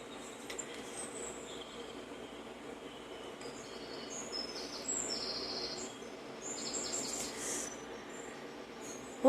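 Small songbirds, a robin and a finch among them, give faint, scattered high chirps and calls over a steady hiss of background noise, with no one talking.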